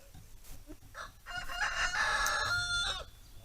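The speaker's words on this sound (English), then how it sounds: "Oh goodness, Rooster." A rooster crows once, a long, loud, strained call close by, with faint farmyard clucking before it.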